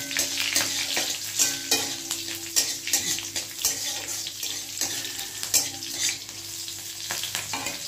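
Panch phoron, two dried red chillies and green chillies crackle and sizzle in hot oil, a bright continuous hiss broken by frequent sharp pops and stirring scrapes, close to the listener.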